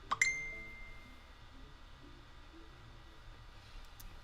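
A phone message alert rings out once as a bright, sharp chime near the start, then rings away into a quiet room.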